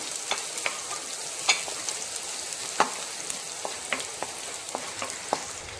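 Chopped shallots fry in coconut oil with popped mustard seeds, a soft steady sizzle broken by a dozen or so sharp spoon scrapes as they're stirred at an uneven pace.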